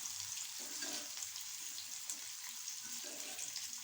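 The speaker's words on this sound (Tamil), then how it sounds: "எண்ணெய் காஞ்சிட்டு பாருங்கள் எப்படி புசு புசுன்னு பொங்கி வருது பாருங்கள்." Steady hiss and sizzle of sago crisps frying in hot oil, a continuous bubbling crackle at moderate distance with no voices.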